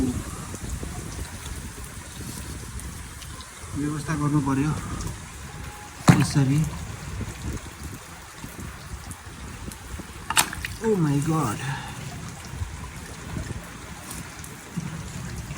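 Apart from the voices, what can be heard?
floodwater rushing through streets after heavy rain in Kathmandu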